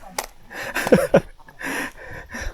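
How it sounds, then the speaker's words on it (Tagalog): Heavy, ragged panting from hikers climbing a steep trail on the Mt. Purgatory traverse in Bokod, Benguet, with a few sharp breaths up close and no talking. "Puro hingal lang."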